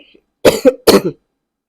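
Two sharp coughs in close succession, loud and near, with a brief pause between them and quiet on either side.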